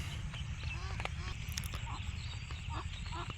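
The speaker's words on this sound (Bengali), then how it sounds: "পানিতে কিছু হাঁস খেলা করতেছে" Ducks playing and bathing in a pond with water lilies, giving scattered soft quacks and honk-like calls over a steady low rumble of wind or handling noise.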